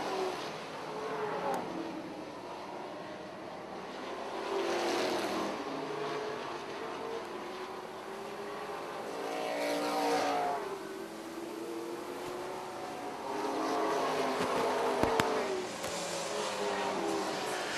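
Race cars roar around a dirt track speedway, engines surging and fading in repeated waves as they pass and power sideways off a corner, with a steady crowd-like wash underneath and no voices.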